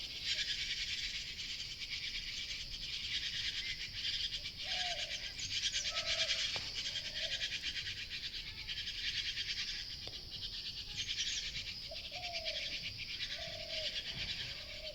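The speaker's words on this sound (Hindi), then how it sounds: "तो इससे पहले और भी ज़्यादा पक्षियों की आवाज़ें सुनाई दे रही थी, मगर अभी कम ही सुनाई दे रही हैं" Birds call outdoors in the hills, sparse short chirps repeating at a distance over a steady, loud insect drone, with no talking.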